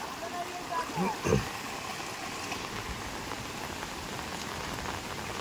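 Heavy monsoon downpour in the Konkan countryside, a steady dense hiss of rain on surfaces and rushing water, with brief voices rising over it near the start.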